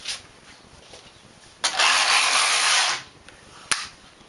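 Domestic knitting machine carriage pushed across the needle bed while knitting a child's hat, one loud continuous whirring slide of about a second and a half, close, bracketed by sharp clacks.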